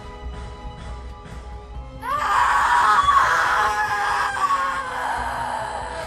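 On a dark, rainy night, after a quiet moment, a sudden shrill, wailing scream bursts out loudly and holds, wavering eerily before easing slightly.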